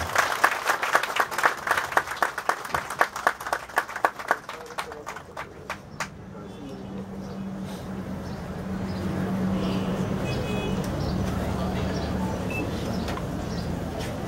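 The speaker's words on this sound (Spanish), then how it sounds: "Le damos un aplauso." Sharp, separate claps ring out at a mayoral swearing-in ceremony, then fade after about six seconds into a steady, diffuse crowd hum with faint chatter.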